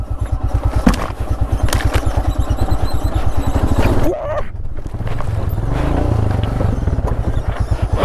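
A brand-new Royal Enfield Himalayan motorcycle is ridden off-road. Its loud, close, pulsing single-cylinder engine drone is broken by a sudden jolt and clatter as it hits a pothole, then the engine settles back to a steady run.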